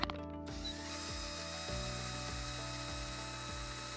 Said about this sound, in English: we're going to use the power of the drill to spin out all that dust